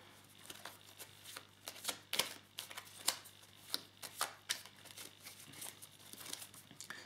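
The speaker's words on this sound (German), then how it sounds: "jetzt haben wir diese 17 Karten hier und mischen die dazu" Playing cards being shuffled by hand for a simple math card trick, a few seconds of crisp riffling and clicking bursts, close and fairly quiet with no talking.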